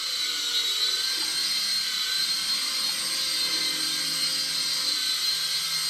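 Hornet mini RC helicopter flying under throttle, a steady high-pitched motor whine with whirring rotor buzz, close and constant with no pauses or voices.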